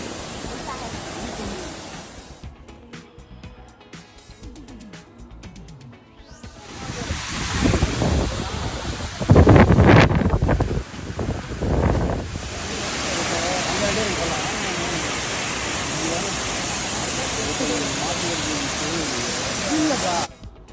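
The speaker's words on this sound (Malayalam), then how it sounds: "ഇതൊക്കെ എക്കോ ടൂറിസത്തിൻ്റെ ഭാഗമായിട്ടുള്ളൊരു വെള്ളച്ചാട്ടമാണ്." A steady, broad roar of falling water at Palaruvi waterfall fills the scene, swelling into louder rushing bursts midway, with muffled voices now and then.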